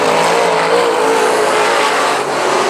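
Race cars roaring around South Texas Speedway on an oval, a continuous loud, dense engine drone with no break, cars close by through the whole stretch.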